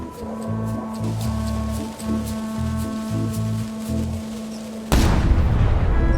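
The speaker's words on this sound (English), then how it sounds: "Ready for cannon firing." Repeated booming cannon shots in Return to Monkey Island thud low and heavy over a steady electronic hum, then a loud rushing blast of noise takes over near the end.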